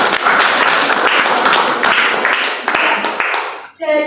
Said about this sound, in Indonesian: Tepuk tangan dulu Mas Ari.